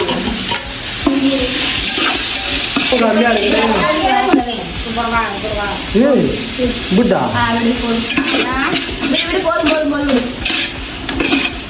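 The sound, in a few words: tomato and mint added and stirred in frying biryani pot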